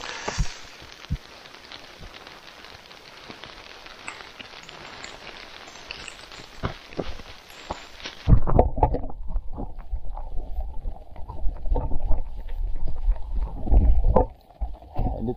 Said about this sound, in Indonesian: Ini tadi hujannya cukup dadakan. Hampir basah semua ini tadi. Ini hujannya cukup halus.